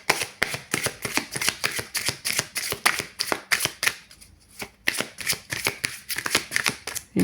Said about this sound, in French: Je vais remélanger pour vous ici